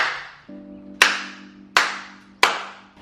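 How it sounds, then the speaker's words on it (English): Three sharp hand claps ring out very close to the ear, each a loud crisp snap spaced under a second apart, over a quiet low hum. "why are you clapping in my ear?"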